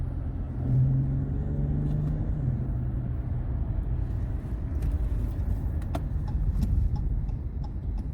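Dodge Challenger SXT with a V6 engine, heard from the cabin as it downshifts: a steady low rumble with a brief rise in pitch early on, a few light clicks, and no talking.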